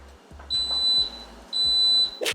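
An Instant Pot pressure cooker timer gives two long, high electronic beeps in a quiet room, each lasting about half a second, followed by a brief clatter.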